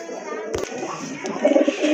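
A pair of large white-and-black pigeons coos softly nearby, with brief low calls, a sharp knock, and faint talk in the background.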